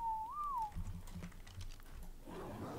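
A person whistles a single clear, bending tone that rises and falls for under a second, followed by faint clicks and soft background noise, with no talking.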